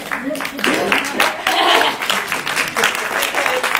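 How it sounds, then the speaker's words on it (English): A congregation rises for a standing ovation for a visiting reverend, loud, close clapping in uneven swells mixed with cheers and voices. "we're going to give you a standing ovation, please"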